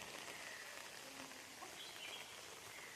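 Steady rain pours down outdoors in a hilly spot, a dense even hiss throughout with faint bird calls mixed in.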